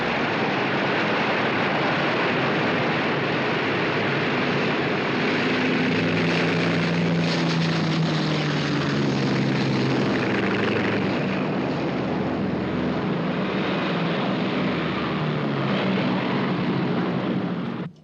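Loud propeller aircraft drone steadily overhead, a constant engine roar with a slow rising and falling pitch, in a 1959 World War II film set aboard a carrier in the Coral Sea.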